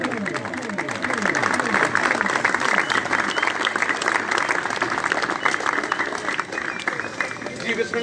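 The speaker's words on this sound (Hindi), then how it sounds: "जोरदार तालियां मार देंगे" At a master-and-disciple ceremony, a crowd claps loudly for a champion ustad. The thick, continuous applause lasts about eight seconds, with voices talking over it.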